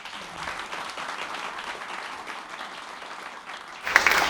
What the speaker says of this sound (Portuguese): Palmas para o Robson